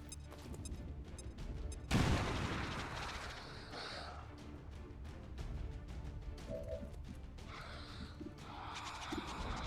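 A grenade explodes in the video game XCOM 2, a sudden deep boom followed by crumbling debris and rumble, set against fainter rapid gunfire bursts and game sounds before and after.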